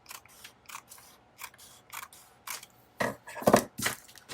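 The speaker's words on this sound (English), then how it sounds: "Let me just trim just a little tiny bit more off of here since it's really super crooked." Scissors snipping paper to trim a crooked journal page, a series of short crisp cuts in an uneven rhythm, quiet and close, with the last few cuts louder and sharper.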